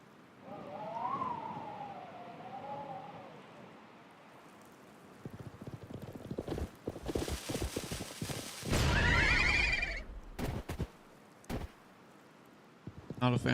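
A horse neighs and dies in the Live A Live video game: a wavering whinny early on, then stamping and hoof-like bursts, a loud shrill cry, and rain-like noise, with game sound effects throughout.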